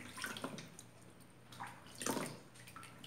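Water runs and splashes in uneven bursts while a young Yorkshire terrier is bathed at home, the flow surging loudest near the end, with no talking.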